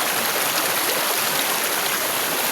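A waterfall in the countryside hills pours with a constant dense rush of falling water, loud and close, with no change in level and no voices.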